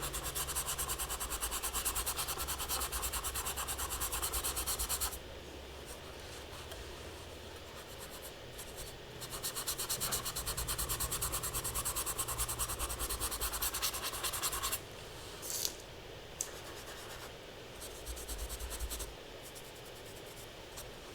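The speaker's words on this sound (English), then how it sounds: "Just scrub some nice moon yellow highlighting on there." Dry-brushing yellow highlight paint onto a Halloween pumpkin figure, a close, continuous scratchy scrubbing of bristles across the surface, steady over the whole stretch with slight shifts in intensity and no talk.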